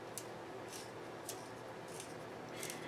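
Coloring pencil resharpened in a hand sharpener, giving a few short scraping, shaving bursts spaced about half a second apart over a quiet background, close and fairly soft, with no talking.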